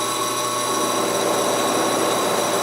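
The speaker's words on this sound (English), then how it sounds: "definitely is going to need a little more sanding there" A new guitar pickguard for a 1947 Gibson L7 archtop is sanded by a power tool, a steady loud high whirring hiss with no breaks or voices.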